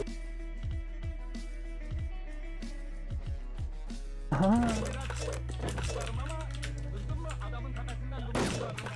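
Gunfire in the Wolfteam video game rings out in quick bursts of sharp shots, with keyboard clicks and a player talking over the action.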